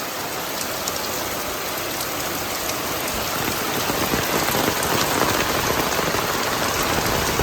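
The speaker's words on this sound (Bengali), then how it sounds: "তো যাই হোক, মোটামুটি বৃষ্টি ভালো হচ্ছে" Heavy rain pours steadily during a Bangladeshi rainy season, a dense continuous hiss of drops on surfaces that swells slightly louder toward the end, with no voices.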